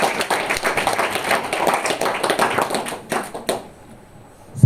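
A seated group gives Ganesh Prasad a round of brisk, close clapping that runs for several seconds before breaking off into a few scattered claps and quiet.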